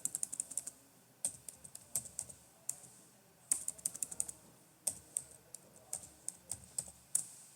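Typing on a computer keyboard to enter a Terraform destroy command, sharp close key clicks in bursts and short runs separated by pauses, with no talking.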